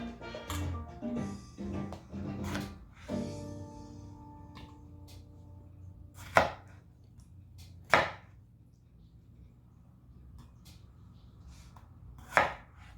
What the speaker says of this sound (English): Just gonna do like a rough chop just so they can go into the blender better